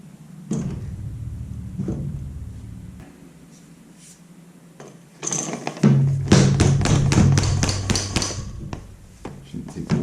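Tapping to drive an oiled fork seal into the fork leg of a 1987 Honda XL600R motorcycle: a rapid series of sharp, close metallic taps in a quick rhythm, preceded by a few isolated thumps and handling noises.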